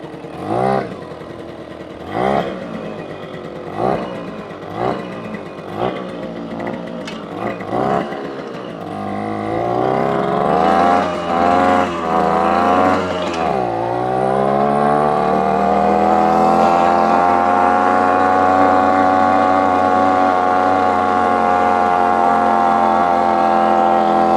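Casal K197 moped from Portugal, a small two-stroke engine, is kicked over several times in short bursts before catching, then settles into a steady, loud, close idle that rises and holds.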